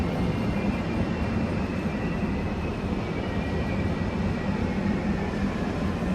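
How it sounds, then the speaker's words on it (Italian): Steady low rumble of a train arriving at a platform at Venezia Mestre station, a continuous broad roar with no distinct events, fairly loud throughout. "Treno in arrivo al binario 10"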